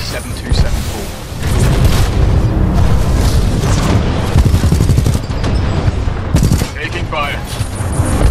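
Rapid bursts of gunfire and booming explosions from combat in the video game Titanfall 2, loud and dense, with shots layered over one another and a voice talking over parts of the action.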